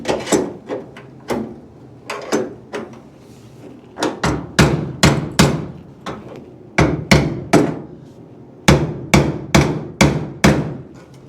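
A hammer strikes a car A pillar during cutting and welding work to realign it, giving sharp metallic blows in uneven bursts of fast repeated hits, loud and close with no talk.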